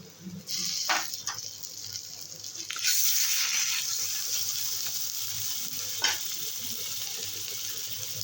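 Potatoes with turmeric and ginger paste fry in oil, a soft, continuous sizzle with a few scraping stirs and a louder burst partway through, fairly quiet and with no one talking.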